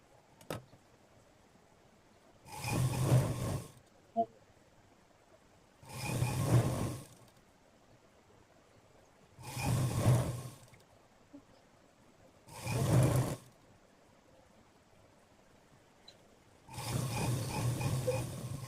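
A sewing machine stitches a folded hem on uniform pants in five separate short runs spaced a few seconds apart, each a muffled mechanical whir over near silence, with no talking.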